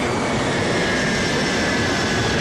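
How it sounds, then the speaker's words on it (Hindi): An airplane passes overhead as a steady, broad engine roar with a faint whine, holding constant and fairly loud throughout with no voices. "हवाई जहाज उड़ रहा है, टाटा।"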